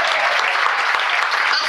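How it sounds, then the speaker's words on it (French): Sustained, dense applause from a concert audience acknowledging the performers, loud and steady throughout with no pauses. "j'aimerais quand même que l'on applaudisse toutes les personnes que vous avez vues"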